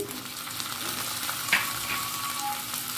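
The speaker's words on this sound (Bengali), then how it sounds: "1 চা চামচ আদা বাটা, 1 চা চামচ রসুন বাটা দিয়ে দিচ্ছি" Ginger and garlic paste frying with golden onions in a pan, a brief steady sizzle with a faint stir or scrape partway through.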